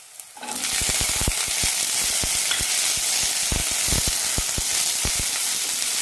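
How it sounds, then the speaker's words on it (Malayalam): Long beans and shallots sautéing in a hot pan for a Kerala-style stir fry, a loud, continuous oil sizzle broken by frequent sharp scrapes and clacks of the spatula stirring, with no talking. "രണ്ട് 3 മിനിറ്റ് നന്നായി വഴറ്റാം."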